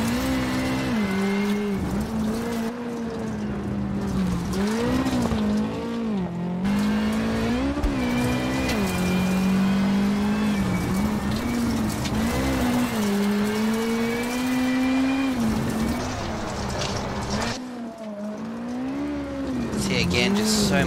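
A rally car in the WRC7 video game drives a sandy stage at Rally Italy, its engine droning steadily and rising and falling with gear changes and throttle, with brief lifts and tire noise throughout.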